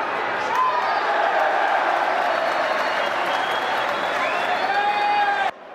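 Football crowd applauding in the stadium stands during a Brazilian match, a steady wash of clapping and crowd noise with a few whistles, held at an even level for several seconds before cutting off abruptly.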